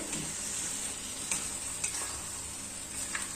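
Masala for a pumpkin curry fries on a low flame, making a quiet, continuous sizzle with a few light ticks and scrapes from stirring.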